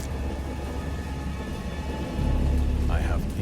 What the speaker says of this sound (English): Yes, I'm back at my boat and it's also raining.